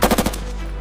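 A short, loud burst of machine-gun covering fire during a French military training exercise: four rapid shots in quick succession, close by, followed by a ringing echo that fades out.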